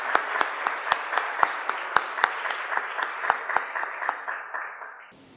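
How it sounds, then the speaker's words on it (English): An audience at an institute's launching ceremony applauds to welcome a singer: a thin crowd of clapping with a few sharp, distinct nearby claps standing out, gradually fading before stopping abruptly. "Let's receive her with a big applause."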